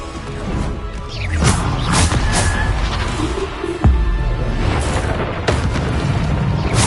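Bombarda spell explosions in Hogwarts Legacy: a loud run of booming blasts and crashes, with several sharp impacts spaced a second or two apart over dense, continuous combat rumble.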